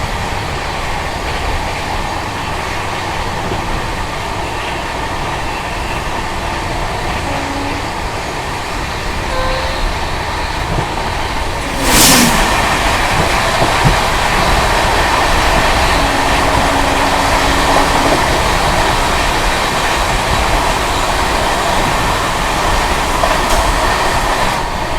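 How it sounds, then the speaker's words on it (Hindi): The Kamakhya–Anand Vihar North East Express 12505 rushing past, heard from aboard another train: a loud, continuous rumble and rattle of wheels for the whole span, with a sudden sharp burst partway through. "सामने से आ रही है भाई कामाख्या से चल के आनंद विहार को जाने वाली कामाख्या आनंद विहार नॉर्थ ईस्ट"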